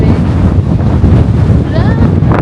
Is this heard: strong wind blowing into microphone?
yes